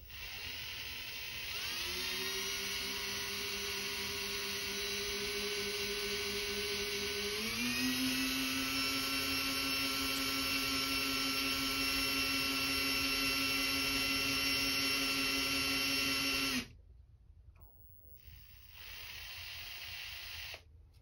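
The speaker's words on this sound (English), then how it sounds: "this is mild steel. It really drills pretty easily." A power drill bores into mild steel during a Kimber K6s sight replacement, a steady high whine with layered harmonics that rises in pitch partway through, runs continuously for about fifteen seconds, then stops abruptly leaving quieter hum.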